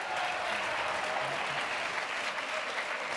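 Studio audience applause at a talk-show book discussion, a steady dense wash of clapping from a crowd that runs throughout without a break, with faint traces of voices underneath.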